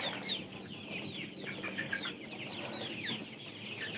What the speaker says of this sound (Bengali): এই মুরগিটা হচ্ছে আর এম আর কোম্পানির আর এম আর কোম্পানির কালার বাট